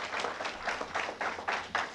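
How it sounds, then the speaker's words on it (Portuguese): A church congregation gives brief, fairly faint applause, with a few distinct rhythmic clap bursts heard from a distance. "Uma salva de palmas para eles"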